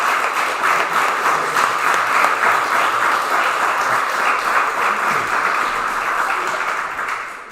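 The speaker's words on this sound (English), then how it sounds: "So we'll give him a round of applause" Steady round of applause from an audience at a spring league awards night, sustained clapping that fills the room at full volume for several seconds before tapering slightly at the end.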